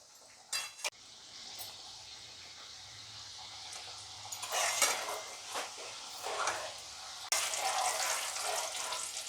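Sweet dough pieces for sugar pare frying in hot oil over lowered heat, giving a soft, steady crackle with brief clinks and louder bursts of sizzle.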